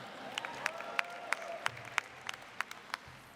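Graduates at a University of Maryland spring commencement clap in a steady patter of scattered, sharp claps, fairly distant across a large crowd, with light cheering underneath.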